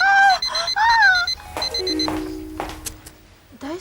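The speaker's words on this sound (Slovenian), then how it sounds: "tik preden se je sprožila njegova budilka" A cartoon alarm clock goes off with bright warbling electronic ringing tones, followed by clattering and sliding effects at close range and loud volume.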